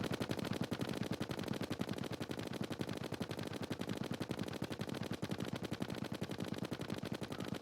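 Rapid automatic gunfire from weapons in the video game Terraria Calamity, a fast unbroken stream of evenly spaced shots that runs steadily throughout, with no talking.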